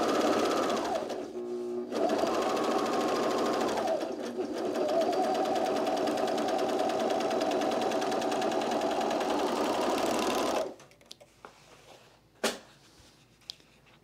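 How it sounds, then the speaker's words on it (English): Sewing machine stitching the center front rise of a pair of pants, a steady fast mechanical whir running nearly nonstop for about ten seconds with brief pauses, then stopping into quiet handling clicks. "we're gonna sew the center front rise here"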